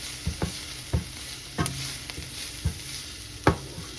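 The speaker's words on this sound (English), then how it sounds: "Just stir it around." Fresh garlic frying in olive oil gives a steady close sizzle, and a spoon scrapes the pan in several sharp strokes about every half second to second.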